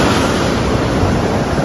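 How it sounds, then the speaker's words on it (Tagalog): Ocean waves break on a beach in Zambales, a loud, steady wash of surf with wind buffeting the microphone and no pause across the moment. "Binangga mo na yung mga alon, Kyle?"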